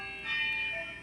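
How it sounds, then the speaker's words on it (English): Church bells sounding as a phone alarm, a faint sustained ringing tone with shimmering overtones, brief and distant beneath room quiet. "You hear church bells in the background because that's my alarm."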